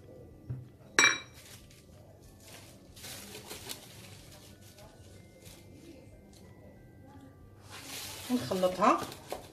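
A utensil clinks and scrapes against a bowl while cake batter with cocoa is mixed, a sharp knock early and a busier clatter of stirring near the end, with someone talking over quiet scraping in between.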